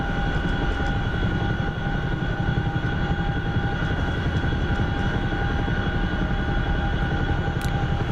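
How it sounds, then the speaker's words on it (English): A UH-1H Huey helicopter in the DCS flight simulator, a continuous steady engine and rotor drone with a constant tonal whine, loud and unbroken for the whole stretch, no talking. "if you're flying the Huey in DCS, the old original UH-1, 1H Huey, you're flying really raw"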